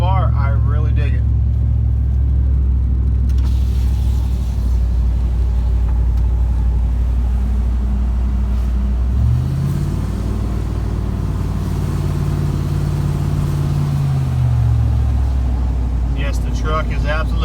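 A truck's exhaust runs through an 18-inch stainless muffler, giving a steady, deep, loud low rumble that swells briefly as the engine revs up partway through, with someone talking over it.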